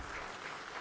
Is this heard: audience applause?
yes